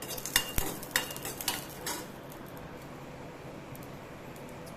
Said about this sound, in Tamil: பூண்டு வதக்குறோம்.